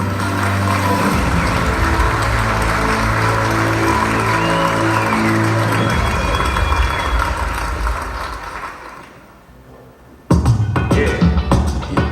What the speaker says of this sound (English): we applaud the top achiever in canoe kayak for 2017, Matthew Robinson.